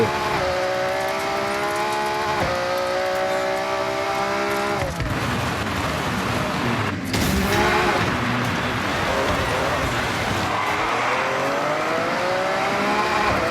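Rally car engine in the Forza Horizon 6 racing game, revving hard with rising and falling pitch sweeps as it shifts gears, loud and continuous with a brief burst of tire or gravel noise midway.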